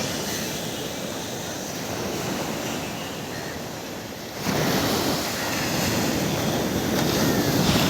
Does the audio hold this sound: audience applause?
no